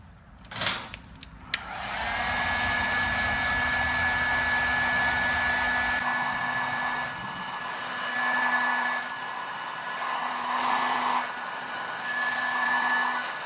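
A heat gun blows a steady, loud hot-air roar close by while shrinking heat shrink tubing over wired connections on a Titan electric hose reel, starting after a couple of clicks and holding with slight swells in tone.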